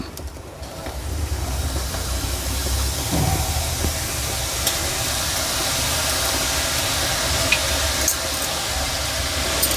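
Ghatia sev dough pressed into hot oil sizzles with a steady, dense frying hiss that starts abruptly and holds evenly loud throughout, with no voices.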